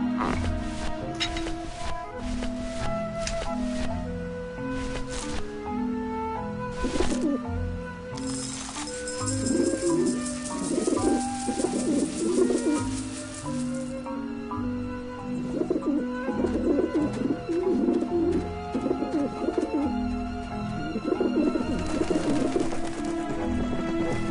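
Pigeons coo in Grim Fandango, soft repeated calls over a steady looping musical score, fairly close and blended into the game's music.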